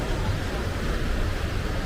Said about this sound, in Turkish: dalgaların sesi buraya kadar geliyor